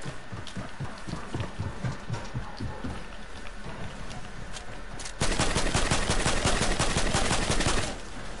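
Rapid gunfire in the video game Fortnite, bursts of sharp repeated shots in quick rhythm, growing louder and denser toward the end, with no talking over it.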